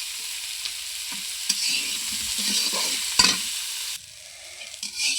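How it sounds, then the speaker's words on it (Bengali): Pointed gourd (potol) fries in a pan with onion and chilli, a soft, steady sizzle broken by occasional scraping stirs, quieter toward the end. "আমার পটল প্রায় ভাজা হয়ে গেছে"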